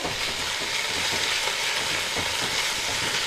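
Ginger-garlic and chilli spice paste sautéing in a pan for dhaniya chicken, a steady, close hiss of frying with faint scraping stirs running through, no voices.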